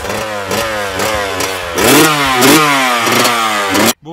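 A 2023 Yamaha YZF motocross bike revs hard nearby in a series of sharp throttle blips, its engine note climbing and dropping several times before cutting off abruptly near the end.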